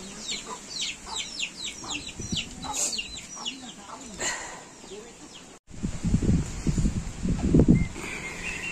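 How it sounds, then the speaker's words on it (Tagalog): Chickens clucking and chicks peeping outdoors in the mountains of Doña Remedios Trinidad, Bulacan, at moderate distance, scattered calls over rustling, later joined by louder nearby shuffling and clucks. "Daming sisiw, daming manok."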